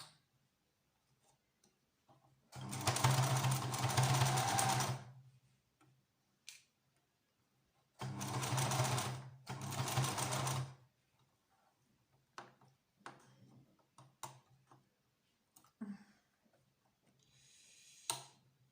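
A sewing machine stitches a fabric face mask in two bursts of close, fast, buzzing whirr, each lasting a few seconds, separated by quiet ticks and handling sounds.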